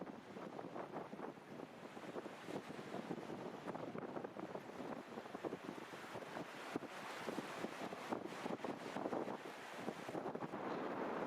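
Strong wind blows across a seaside pier at Orłowo, roaring steadily into the microphone with gusty buffeting, and waves rumble in the background throughout.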